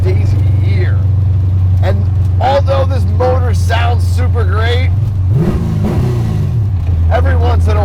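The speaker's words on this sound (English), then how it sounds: "although this motor sounds super great" A 1969 Chevrolet Camaro SS with a 490ci Pro-Touring engine idles with a steady, deep rumble and a slight swell in revs near the end, while someone talks over it throughout.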